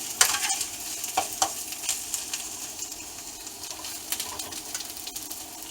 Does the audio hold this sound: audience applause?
no